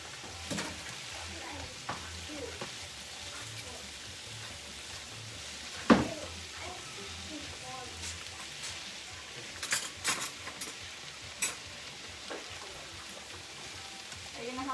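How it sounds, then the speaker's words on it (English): Rajas con queso filling for tamales sizzles quietly in a pan while it is stirred, with faint scrapes, occasional clinks and a low, steady frying hiss. "Give it a good stir."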